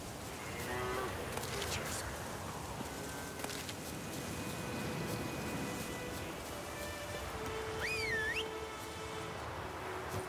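Cows mooing in The Witcher 3 video game, several drawn-out lowing calls over a steady outdoor ambience, with a brief whistling sweep near the end and no talk.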